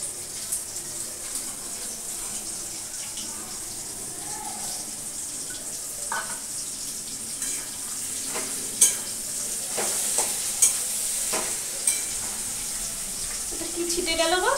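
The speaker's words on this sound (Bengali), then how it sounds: "এই যে এবার দিয়ে দিচ্ছি এই মরলা মাছগুলো" Small mola fish go into a hot pan with potato and eggplant for a Bengali charchori, a steady soft sizzle with clinks and stirring scrapes, growing livelier near the end.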